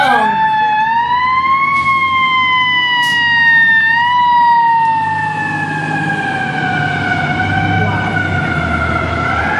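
A fire truck siren wails loudly and close, its pitch sweeping slowly up and down over a low traffic rumble, with a brief sharp horn blast early on.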